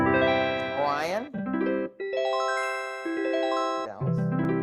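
Electronic keyboard on its bell voice setting plays a ringing, chime-like phrase of sustained tones with bright overtones, loud and close with no talk over it.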